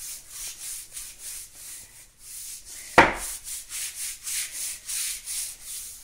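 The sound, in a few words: scrubbing floor gaps with a hard outdoor broom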